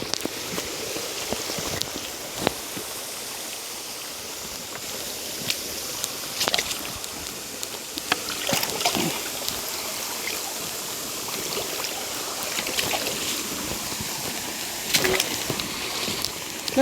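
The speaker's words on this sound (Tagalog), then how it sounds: "Dito sa may sapa." A small mountain stream flows in a steady, close wash of water, broken by occasional splashes and sharp knocks.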